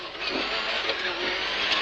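A 1997 Subaru Impreza World Rally car runs hard through its gears, its engine a loud, steady, raspy drone held close with no clear breaks between shifts.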